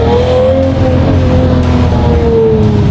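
A Lamborghini engine roars loud and close as it revs and accelerates, a rising tone climbing steadily over a dense, continuous exhaust rumble with no talk.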